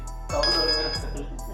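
A budget Infinix smartphone costing about ₹6000 rings with an incoming call, a brief bright electronic chime repeating in quick pulses, fairly clear and close.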